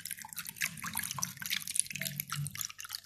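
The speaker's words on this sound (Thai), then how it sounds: "เทน้ำส้มสายชูลงไปให้ท่วมไข่เลยค่ะ" Vinegar poured over duck eggs in a container for salting, with a soft, continuous trickle and scattered small drips and splashes, close and quiet; no speech.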